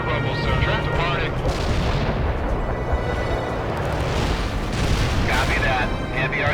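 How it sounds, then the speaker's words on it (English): A heavy artillery barrage in the real-time strategy game World in Conflict, dense continuous rumbling booms and blasts layered over battle noise, with brief radio-style voices heard. "Heavy artillery barrage inbound."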